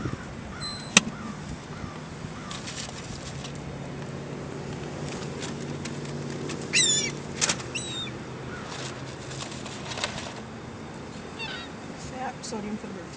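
Seagulls in Brooklyn Center flap and squawk as they eat fries, with a few sharp cries and wingbeats over a steady outdoor rumble, and a person talking now and then.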